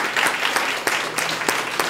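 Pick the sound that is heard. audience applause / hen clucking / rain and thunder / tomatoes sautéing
audience applause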